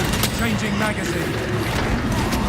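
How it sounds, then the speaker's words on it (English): A weapon magazine being swapped in Warhammer 40,000: Space Marine 2, heard as a quick run of mechanical clicks and ratcheting clacks mixed with game effects and a talking voice over a dense, steady background. "Changing magazine."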